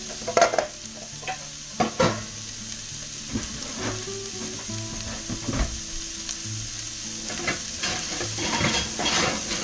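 Celery and carrots sauté in a pan with a steady hiss of sizzling, while a utensil scrapes and clatters against the pan in scattered knocks throughout.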